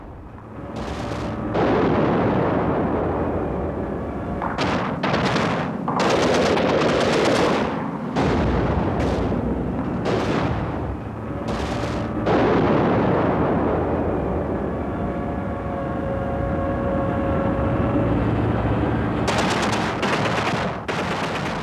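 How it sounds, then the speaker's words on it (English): A 50 caliber heavy machine gun fires from the power-operated turret of an armored infantry vehicle, in loud bursts of heavy rapid shots separated by short pauses, with booming echoes between volleys. "The vehicle can also hit back using the 50 caliber heavy machine gun mounted in the full traversing power-operated turret."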